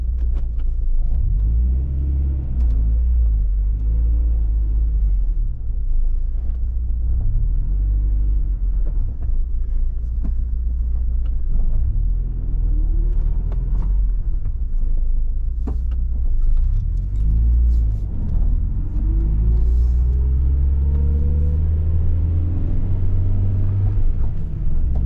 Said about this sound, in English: All right, gonna go for a little drive